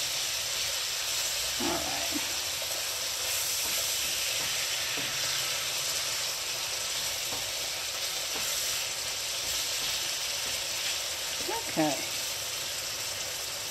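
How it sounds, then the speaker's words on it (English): Ground hamburger meat sizzling and frying in a greasy pan, a steady close hiss throughout with occasional stirring scrapes, while a person speaks briefly over it. "let's cook up this hamburger a little bit"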